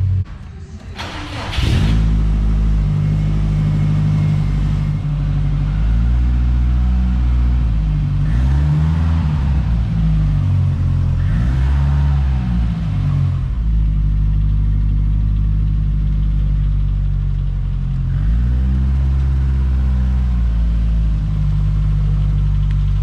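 A car engine on a dyno's rollers, revving hard through repeated pulls with rising and falling tones, loud and close throughout after a brief quiet start.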